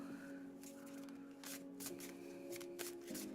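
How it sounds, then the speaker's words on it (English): Tarot cards are shuffled in a few soft riffling bursts, close and fairly quiet, with no talking. "Let's go ahead and shuffle."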